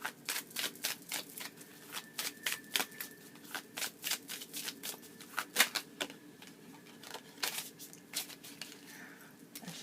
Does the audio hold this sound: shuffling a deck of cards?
yes